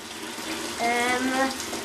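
Water pouring from a tap into a container while making sugar syrup for feeding, a steady rushing stream with a rising filling tone midway through, close and moderately loud.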